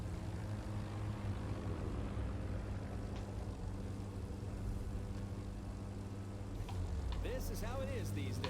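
Propeller planes drone steadily through the racing game The Crew 2, a continuous low engine hum lasting throughout, with a voice briefly speaking near the end.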